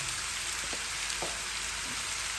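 Pork belly and long eggplant sizzle as they stir-fry in a hot pan, a steady crackling hiss with a few soft scrapes and clinks from stirring, close and alone.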